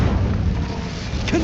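In Hogwarts Legacy, an Incendio fire spell erupts with a heavy, rumbling boom that holds steady and loud for the whole moment, ending in a small bright flare.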